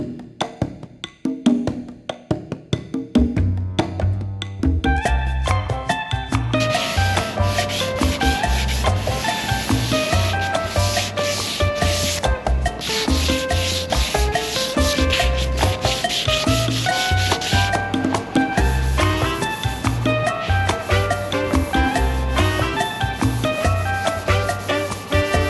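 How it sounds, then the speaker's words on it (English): A trailer panel being hand sanded, rapid steady back-and-forth scratchy rubbing strokes that build up and continue loudly and close for the whole stretch, with no talking. "This is the other side I gotta sand."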